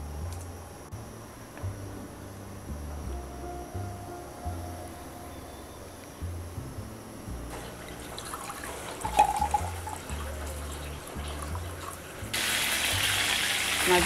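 Katla fish frying in mustard oil in a pan gives a soft, steady sizzle that thickens midway and jumps to a loud, bright hiss near the end, over a low background rumble.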